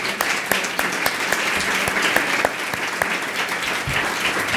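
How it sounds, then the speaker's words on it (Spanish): Applause from a small audience at a science café session, a close, fairly loud spread of individual claps with crisp separate strikes over a steady clapping bed, no one speaking. "les pediría un aplauso para ella"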